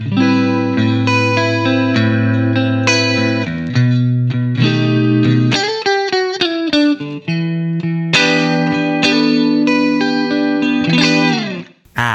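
Electric guitar preset from a JBL Bandbox Solo AI smart amp, loud, chorused and driven chords and single-note lines ringing with sustained harmonics, played continuously alone with brief pauses between phrases.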